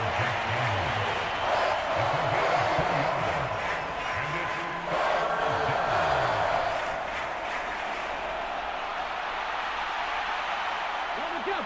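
A stadium crowd roars steadily in Madden NFL during a Washington Commanders vs. Detroit Lions game, a broad sustained cheer under almost constant play-by-play commentary.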